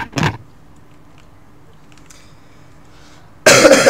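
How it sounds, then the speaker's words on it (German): A person coughs once in a short, harsh burst near the start, then there is quiet, and a louder rough burst of noise comes in near the end. "Sorry Leute, dass ich gerade husten musste."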